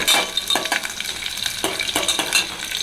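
Garlic frying in a pan for a small-onion kulambu, a steady close sizzle with repeated scraping stir strokes and light utensil clicks against the pan.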